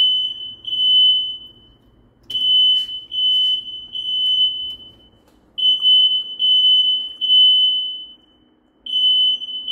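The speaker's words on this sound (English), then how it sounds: "I hate when your smoke alarm goes off." A smoke alarm gives loud, shrill electronic beeps in repeated bursts, with short gaps between them and faint low background noise.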